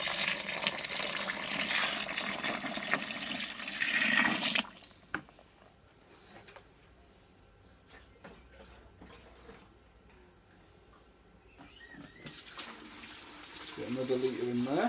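Water gushes loudly into a white wine kit fermenter for about four seconds, then stops abruptly, leaving quieter handling sounds before a fresh pour begins near the end.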